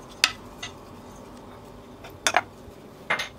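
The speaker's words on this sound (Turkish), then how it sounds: "demlenen bulgurumuzu tekrardan karıştıralım" A spoon scraping and clinking against a pot while steeped bulgur is stirred, a few sparse metallic taps over a low background hum.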